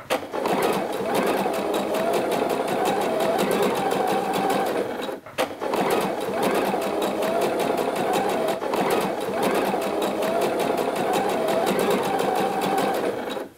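Sewing machine stitching two rows of gathering threads near a fabric edge for a dress sleeve, a rapid mechanical needle rattle running steadily, pausing briefly once before resuming at the same pace.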